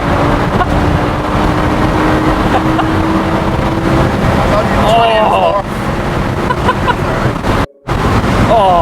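An Audi R8 V10 Spyder supercar with its exhaust valves open accelerates hard, a loud broadband engine roar rising in pitch through the gears with a brief cut near the end, as people talk over it inside the car.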